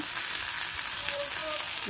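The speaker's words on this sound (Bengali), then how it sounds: "এই যে দেখুন সেটা ভাজা ভাজা হয়ে গেছে এই যে নিচে তেল উঠে আসছে" Cauliflower frying in hot oil in a pan, a continuous close sizzle with faint stirring, steady and loud without talk.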